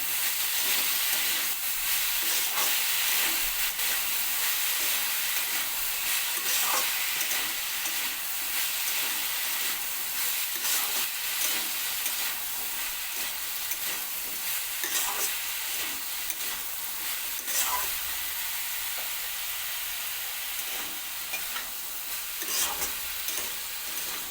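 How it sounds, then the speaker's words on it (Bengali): Potatoes and yard-long beans, cut small, fry in a pan with a loud, steady sizzle and hiss, broken by occasional stirring clicks and scrapes throughout. "আলু বরবটি প্রায় ভাজা ভাজা মতন করে নেব"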